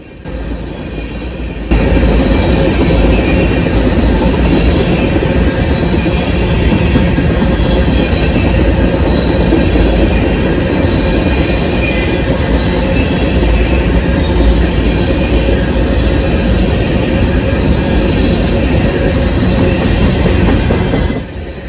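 A heavy freight train rumbles past close by, with steady clattering of wheels on rail that holds loud and continuous until it cuts off at the end.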